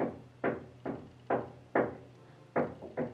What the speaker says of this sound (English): my neighbors, you can hear them, they're still doing work in their flat